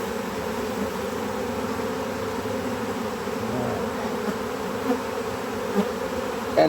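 Honey bee swarm droning steadily during a rescue as the bees are scooped into a cannon-style catcher, a dense continuous buzz close by with a few faint knocks and no talking.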